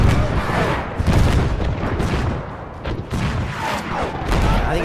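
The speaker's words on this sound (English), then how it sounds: "I think he's got a shotgun." Heavy gunfire and booming blasts in the Mount & Blade Warband Parabellum mod, including shotgun fire, crowding together into a loud, continuous barrage of overlapping shots throughout.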